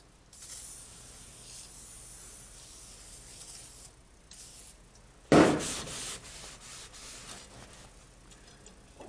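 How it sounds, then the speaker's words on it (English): Oil sprayed onto a small cheap 3-in-1 metal shear, a short sharp burst of aerosol hiss at close range, after quieter rustling and handling noises. "I guess we'll oil this up too."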